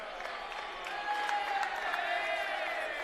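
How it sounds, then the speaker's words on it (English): Applause and crowd noise ring out at a men's college volleyball match between OCU and Brescia University, a steady, fairly distant wash of clapping that swells slightly halfway through. "Gets a round of applause"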